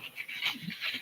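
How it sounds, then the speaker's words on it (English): A dog sniffing in quick airy bursts with faint high whimpers mixed in, close and continuous for about a second, with no talking. "This dog and his nose."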